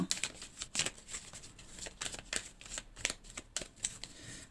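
Tarot cards being shuffled by hand, a continuous run of soft riffling slaps and flicks close by, quiet and irregular, with no speech over it.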